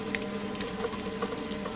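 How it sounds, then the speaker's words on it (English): A pepper mill is cranked by hand to grind pepper into a mayonnaise and milk dressing in a kitchen. The grinding is steady and close, a continuous mechanical whirring with no talk over it. "We'll just crank a little pepper in here."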